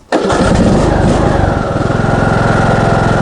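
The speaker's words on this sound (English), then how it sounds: "It doesn't take long for these air-cooled engines to warm up" A Briggs & Stratton air-cooled small engine, under repair for a head gasket replacement, catches abruptly and runs loud and close. It settles into a fast, steady, chugging idle with a regular pulsing beat and no talking.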